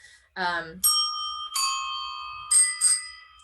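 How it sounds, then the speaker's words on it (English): Several bicycle bells ringing one after another, bright metallic dings with long ringing tails, separated by short pauses, preceded by a brief voice. "this is actually the bike bells from that scene with the 7 sopranos"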